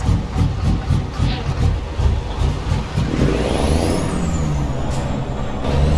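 Big rig in American Truck Simulator with a long, loping idle that sounds sickly, a deep steady rumble with an air brake hiss and rising whine partway through, loud and close with no talk.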